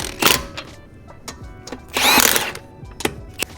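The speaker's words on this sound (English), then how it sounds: "I'm going to use the impact, but I'm just going to run them in." An impact wrench runs lug nuts onto a wheel during a tire rotation: short close bursts of tool whir and ratcheting, with one longer rattling burst in the middle.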